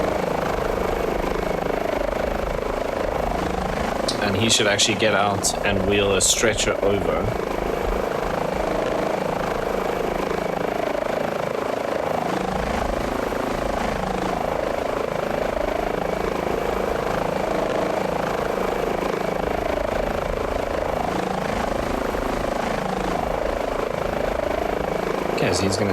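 Helicopter engines of an HPG H145 idling in Microsoft Flight Simulator 2020, a steady turbine whine and rotor hum running throughout while someone talks over it.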